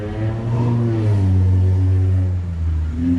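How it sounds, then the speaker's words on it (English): A Mustang's engine revs nearby in a sustained low growl, its pitch rising and falling as the throttle is worked. "we got the Mustang over there revving"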